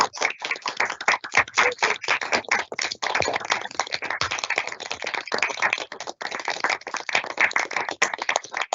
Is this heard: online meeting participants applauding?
yes